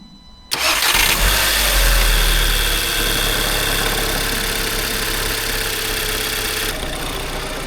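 An Audi S3 engine in poor condition, just fitted with new spark plugs, cranks and catches, then settles into a steady, loud idle close by.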